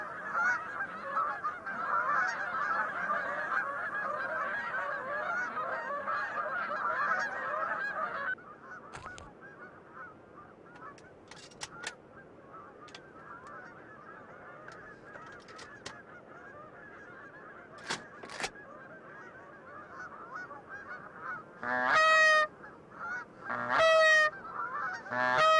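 Geese honking in a marsh, a dense flock calling continuously at first, then quieter scattered honks and a few loud, close bursts of rapid honking near the end.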